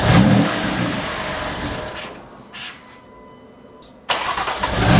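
A BMW M3/M4 with the S55 engine cranks after a valve cover and PCV valve replacement; the starter churns loudly, stops into near silence, then a second cranking attempt kicks in abruptly near the end.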